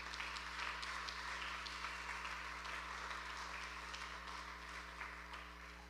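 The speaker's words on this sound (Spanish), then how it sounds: "Dele fuerte ese aplauso, hermano." A church congregation claps in steady applause during a sermon, a continuous wash of many hands over a low electrical hum, easing slightly toward the end.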